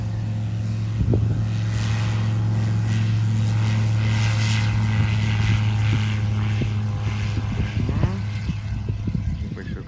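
A Swift flying-wing model airplane flies with a steady, loud propeller drone and a constant engine tone throughout, a few sharper bursts and crackles near the end.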